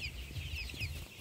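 Tiger breed chickens cluck and chatter on a poultry farm and hatchery in Ullapara, Sirajganj, with several birds calling close by over a steady farmyard hiss, no talking.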